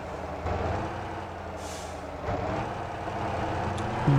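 A truck's air brakes release a sharp pneumatic hiss over a steady engine drone in the driving game Motor Town, the burst short and close as the rig pulls toward a furniture factory.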